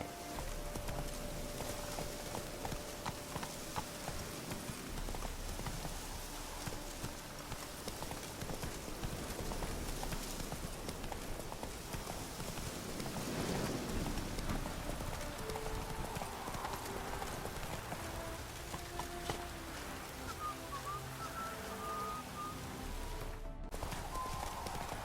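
Hooves of Roach, the horse in The Witcher 3, clip-clop at a steady walking pace throughout, moderately loud under ambient game sounds, with a brief whinny and some spoken dialogue.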